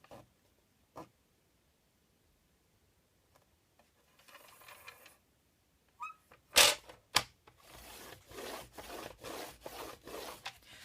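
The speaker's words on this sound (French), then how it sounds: "Vous allez plier à 4." A sheet of paper folded into four, near and quiet at first with a few isolated taps, then crisp crinkling and sharp creasing rustles growing denser toward the end.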